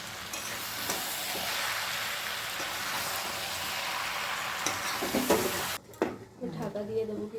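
Bhetki fish bones and vegetables sizzle in oil in a pan under a steady frying hiss and spatula scraping, then the sizzle drops away near the end as stirring knocks and clatter continue.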